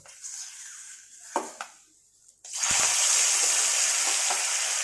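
Fish rubbed with turmeric and salt drops into a wok with a little oil. Quiet clinks and scrapes come first, then a sudden loud, sustained sizzle bursts up and holds steady.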